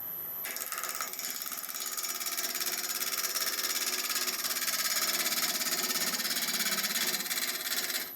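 Wood lathe cutting the inside of a natural edge olive bowl, a steady scraping whir with a high whine that holds for about eight seconds and grows slightly louder; close, no talk.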